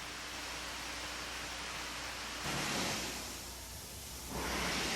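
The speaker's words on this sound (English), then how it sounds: "Every Airstream is subjected to rigorous testing, including this tough cloudburst test" Heavy water spray drums across the aluminum skin of a 1984 Airstream trailer during a factory cloudburst leak test, a steady hissing downpour with no voices that surges louder partway through and again near the end.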